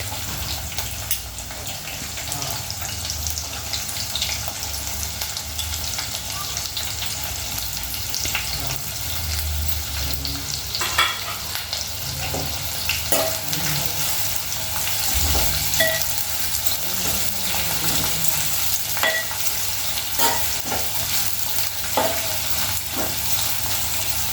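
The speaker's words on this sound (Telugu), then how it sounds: "పచ్చిమిర్చి ఇప్పుడు ఉల్లిపాయలు వేసేదాం" Onions and green chillies fry in hot oil for a chicken fry: a loud, continuous crackling sizzle that holds steady the whole time, with occasional stirring clicks.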